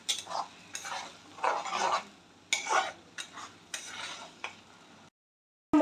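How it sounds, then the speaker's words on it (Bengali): Chicken keema being stirred thoroughly in a pan, with a spoon scraping in about eight close, uneven bursts and brief pauses between strokes before it stops abruptly. No one talks. "এগুলো দিয়ে খুব ভালো করে কষাতে হবে।"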